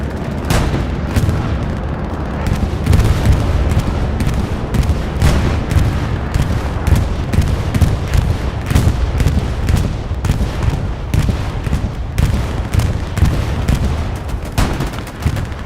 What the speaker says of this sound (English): Last bombing run, perhaps.